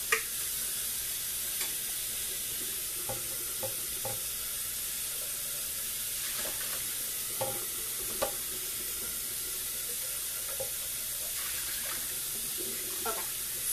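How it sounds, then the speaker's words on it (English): Running water from a tap splashes while a French press is rinsed out, a steady hiss of flow with scattered clinks and knocks of glass and metal, and no talk. "I'm gonna rinse out my French press real quick"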